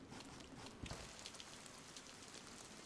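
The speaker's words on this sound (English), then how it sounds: "I love the sound of the rain." Steady soft rainfall in the video game DayZ, a dense even patter of drops on surfaces, quiet and continuous with no talk.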